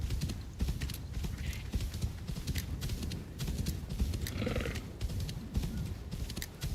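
Rhythmic hoofbeats clop along steadily at a moderate pace, with a brief snort or whinny midway, set against a dense background of ambient game noise.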